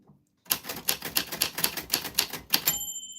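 Manual typewriter keys strike in a quick, even run of about nine sharp clacks, then the carriage bell rings out clearly and lingers as the typing stops, close and alone with no voices.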